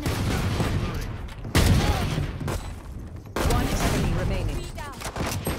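Bursts of gunfire in the video game Valorant, apparently from a Frenzy pistol, come as loud dense volleys in three stretches with brief lulls between them.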